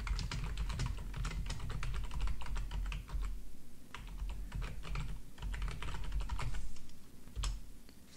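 A computer keyboard clatters under quick, close typing in irregular bursts of keystrokes with brief pauses, steady and clear with no talk.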